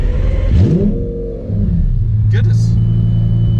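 A Lamborghini engine revs with a rising surge, then settles into a steady, deep rumble close by, while a person speaks briefly over it.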